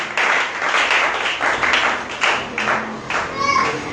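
A church congregation claps and cheers in praise of the Lord during a sermon, dense lively applause mixed with shouts and voices, steady and close throughout.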